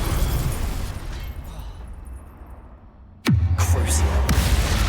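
A Confringo blasting curse in Hogwarts Legacy erupts as a sudden loud magical explosion with a sharp swooping burst and heavy rumbling boom, following a rushing lead-in, close and dominant in the game mix.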